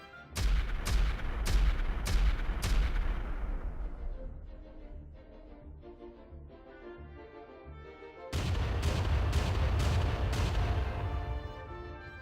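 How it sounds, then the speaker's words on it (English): Cannons open up on a Spanish fortress in a Napoleonic-era strategy game: a quick string of heavy booms, a quieter rumbling stretch, then another loud volley of shots. "With the placement of the first cannons, the bombing of the fortress begins."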